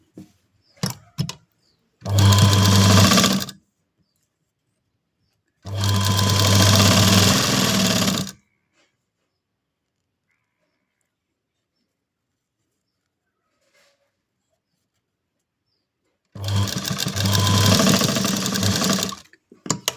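A sewing machine stitches a blouse in three separate bursts of steady, fast mechanical whirring, with long silent pauses between runs.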